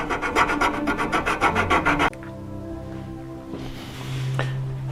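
A file rasps across the end grain of a wooden cabriole leg in quick, even back-and-forth strokes, close and steady for about two seconds before the strokes stop and quieter background sound takes over.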